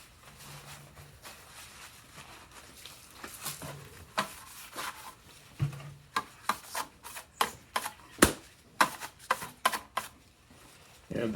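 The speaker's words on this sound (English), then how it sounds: "Going to degrease this with some alcohol." Someone wipes a cut-off aluminum piano hinge with a cloth and ethyl alcohol to degrease it, making a quiet rhythmic run of close rubbing strokes that speed up toward the end.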